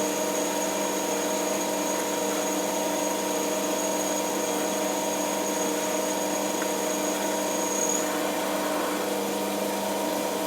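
A metal lathe turns a steel tailstock centre of 100C6 stub steel under hand-fed carriage, giving a steady machine hum with a thin high whine from the cutting, running continuously at moderate level with no talk.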